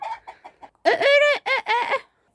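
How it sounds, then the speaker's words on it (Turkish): A few quick soft clucks, then a loud, drawn-out fowl call in three bursts, close up with no talking. "Hello Tavuklar yumurtanız var mı?"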